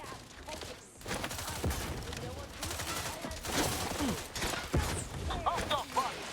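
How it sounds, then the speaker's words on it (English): Gunfire in The Outer Worlds 2 during a fight with cultists, irregular bursts and single shots crackling over a busy game mix, with speech and combat noise mixed in. "Hostile fire!"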